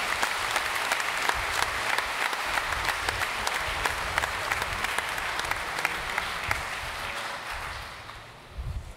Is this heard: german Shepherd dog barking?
no